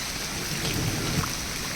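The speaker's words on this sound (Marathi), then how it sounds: "कोकणामध्ये जोरात पाऊस मुसळधार पाऊस" Heavy monsoon-style rain pours in Konkan, a dense, steady hiss with no breaks and no voices.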